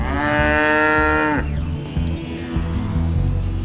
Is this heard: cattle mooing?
yes